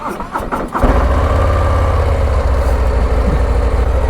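A stock 2023 Harley-Davidson Street Glide CVO touring motorcycle starts up, with a short cranking stutter, then catching into a loud, steady, deep-throated idle that rumbles close by.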